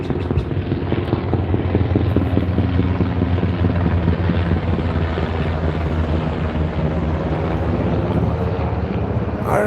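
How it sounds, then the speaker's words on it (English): A helicopter with a hose hanging beneath it, fetching water, passes low overhead with a continuous loud rotor thrum and engine drone that holds steady throughout. "we've got some helicopter action coming through here."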